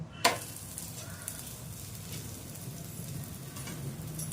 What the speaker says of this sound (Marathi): आता आपण दुसऱ्या बाजूनेही आपण त्याला 2 मिनिटांवरती खरपूस असं शेकून घेऊ